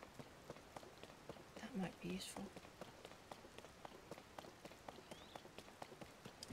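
Rain falls on Tingel Island in Zelda: Tears of the Kingdom as a steady stream of crisp individual droplet ticks, with a brief spoken remark partway through.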